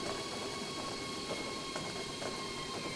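A high-speed train runs on track in the railway simulation game Transport Fever, a continuous rolling rumble with faint rhythmic clicks from the wheels, steady and close, with nobody talking.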